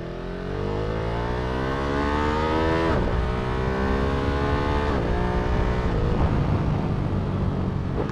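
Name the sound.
Ducati Monster motorcycle engine revving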